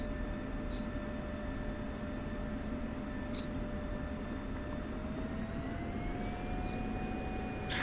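An F-16CM's jet engine idles steadily while taxiing in the DCS flight simulator: a constant whining drone with layered tonal hums over a broad rushing roar, the pitch rising slightly partway through, with faint intermittent ticks.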